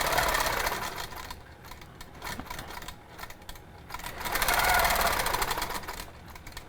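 A sewing machine stitches lines along a 45-degree wedge ruler in quilting, running in rapid rattling bursts that swell, pause briefly and resume, close and fairly loud.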